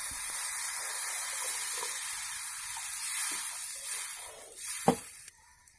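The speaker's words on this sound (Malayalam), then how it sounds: "ഇനി ഇതിലേക്ക് കുറച്ച് വെള്ളം ഒഴിച്ച് കൊടുക്കുക." Water poured into a hot pan of spiced masala for a soya chunk roast hisses and sizzles steadily, then tapers off after a brief sharper burst near the end.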